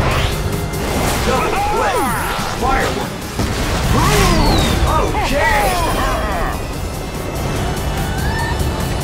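The fireworks item goes off in the PC racing game Sonic & All-Stars Racing Transformed: whistling rocket swoops and crackling bursts over the busy roar of karts, crashes and whooshes, continuing for several seconds.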